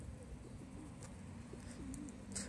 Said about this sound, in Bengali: আর এই কবুতরগুলো পোষা কবুতর না, এগুলোকে বন্য কবুতর।